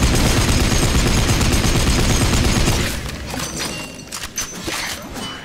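Rapid, loud bursts of gunfire from the video game Blades of Time, dense and continuous for about three seconds, then thinning to scattered shots and impacts.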